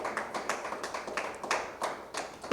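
A church congregation claps in a loose, uneven rhythm during a worship service, the hand claps coming in distinct bursts at moderate volume with no talking.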